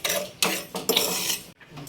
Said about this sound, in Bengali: তো এই চিনিটা ভালো করে আমি গরম করে নেব।